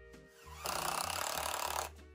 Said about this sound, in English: And this one, I will screw to the inside brace here.